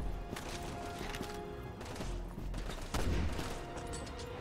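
Gunshots fired at a monster in Resident Evil 6, sounding as scattered sharp bangs over a dense game din, with a heavier burst near the end, all fairly quiet.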